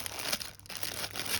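Plastic wrapping around a skein of yarn crinkles loudly and close by as the yarn is pulled from inside it, with two rustling bursts split by a brief pause.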